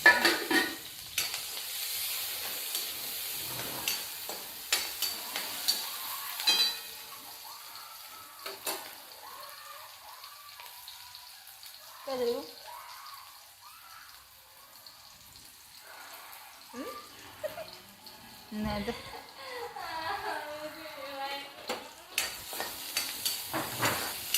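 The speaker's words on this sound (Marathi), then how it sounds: "थोडासा असा कांदा लाल तळून घेत आहे" Chopped onion fries in a pan until reddish for a fenugreek-leaf (methi) bhaji, giving a steady soft sizzle with occasional spoon stirs and clinks, while a faint voice speaks now and then.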